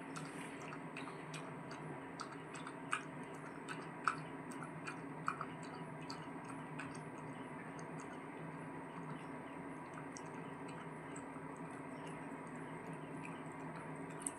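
A Pomeranian dog named Kido laps and chews its food and milk, a steady, faint wet smacking with small irregular ticks and drips running throughout.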